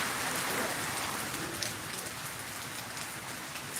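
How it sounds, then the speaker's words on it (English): Steady rain falls and patters on surfaces outdoors, a dense even hiss of drops with no talk. "Refreshing rain weather."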